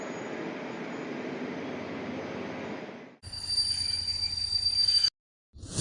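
A train arriving at Karaikal railway station rumbles steadily, then a harsher metallic wheel screech and clatter cuts in, followed by a brief silence before the noise resumes.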